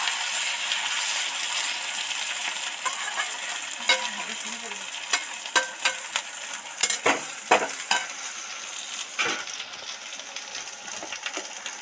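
Garlic paste sizzles steadily in a pan while a spoon clinks and scrapes against it a few times.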